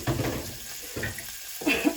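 About a cup of water splashing and trickling into a pan of country-style ribs in short pours, close by, with a brief gap between bursts.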